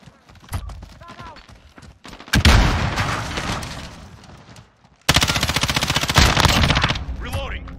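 Machine gun fire in Call of Duty Modern Warfare comes in loud, dense automatic bursts, with a break before a second sustained volley, while a player's voice is heard in between.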